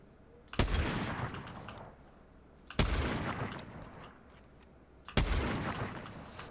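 Three loud sniper rifle shots in the Fortnite video game ring out at roughly two-second intervals. Each sharp crack trails off into a long decaying echo.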